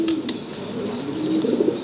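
An imported pair of black German Beauty Homer pigeons coo close by, a low, continuous burbling murmur that swells slightly toward the end.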